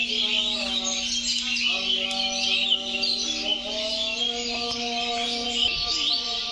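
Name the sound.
birds calling in flocks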